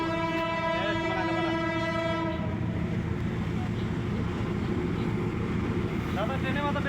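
A train horn blares with a long harmonic blast for the first two seconds, then the loud, continuous rumble and rattle of the train passing close by fills the rest, with voices faintly beneath.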